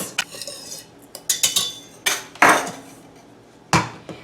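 A spoon clinks and scrapes against a bowl while sweetener, salt and baking mix are stirred together, giving a handful of sharp, close, irregular knocks and taps with no talk.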